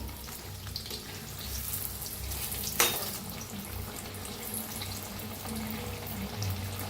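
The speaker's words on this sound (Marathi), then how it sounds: "घेऊया दोन्ही साईडने छान असं तळून घ्यायचं" Rice flour fritters fry in hot oil with a steady, close sizzle throughout, plus one brief sharp click partway through.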